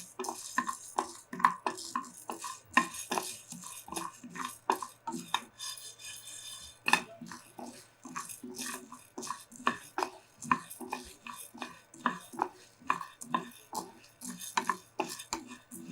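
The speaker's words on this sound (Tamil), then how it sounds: "இப்போ இந்த உளுந்து நான் வந்து கைவிடாமல் வறுக்கிறேன், அப்போ ஒரே மாதிரி வறுபடும்" Urad dal dry-roasts in a pan under constant stirring, producing rapid, close, gritty scraping and rattling strokes in a steady rhythm, with a brief pause partway through and no talk.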